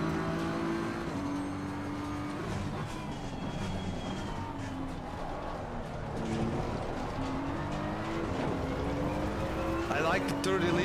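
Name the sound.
race car engine on hot lap at Spa, racing video game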